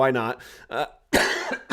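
Several short, harsh coughs from a person who is sick, bursting between bits of nearby speech in an indoor setting.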